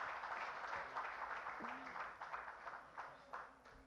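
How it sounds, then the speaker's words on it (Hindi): Soft, distant audience applause at a summit stage event keeps up a steady wash throughout while a voice speaks over it. "तालियां सारी जॉन ने पहले बजवा ली थी, लेकिन एक बार और हो जाए"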